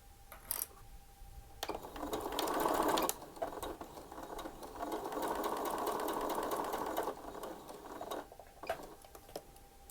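Sewing machine stitching pieced quilt blocks, with two bursts of rapid steady stitching separated by brief pauses and a few light clicks, close and moderately loud with no talk.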